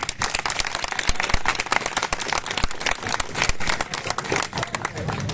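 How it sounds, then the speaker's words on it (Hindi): A film crew applauds the team at pack-up on the last day of shooting a movie, a dense, steady clapping from a group filling the whole stretch, with voices mixed in. "बाकी सब टीम के लिए एक बार तालियां हो जाए।"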